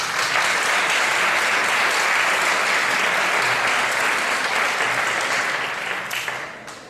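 An audience at the Aceituna de Plata 2013 award ceremony breaks into sustained applause, a dense, even wash of clapping that holds steady for several seconds before tapering off.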